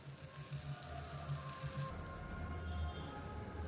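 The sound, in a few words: dal batter roasting on a hot pan with ghee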